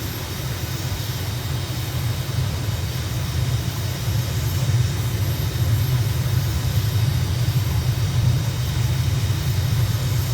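Airliner taking off in Microsoft Flight Simulator, a steady loud engine roar with a deep low rumble that holds evenly throughout, no voices.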